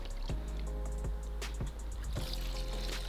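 Water from a solar-powered fountain in a fish pond splashes and trickles steadily, a soft continuous pouring with small drips, close by and alone.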